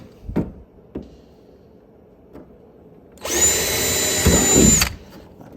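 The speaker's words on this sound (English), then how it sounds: "find your mark, drill it" Power drill boring a hole in a metal kart frame, a steady high whine lasting about two seconds after a few soft knocks and handling thuds, loud and close.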